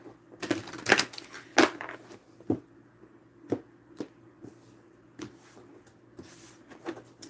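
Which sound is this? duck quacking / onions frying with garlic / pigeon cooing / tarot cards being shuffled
tarot cards being shuffled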